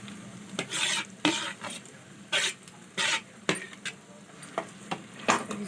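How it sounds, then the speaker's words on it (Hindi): Mashed potato frying in a pan, spatula scraping and stirring in irregular bursts over a soft continuous sizzle, close by. "मैश किया हुआ आलू, तो अच्छी तरह भून लेंगे"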